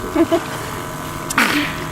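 A single sharp sneeze bursts out about midway, fairly close and brief, with faint voices and low room noise around it.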